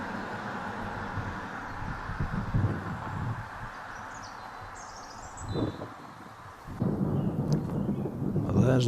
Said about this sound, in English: Well, there's the thunder.